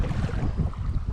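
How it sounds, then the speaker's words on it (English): Heavy wind buffets the microphone in a low, rumbling roar with uneven gusts throughout. "Sorry about the wind."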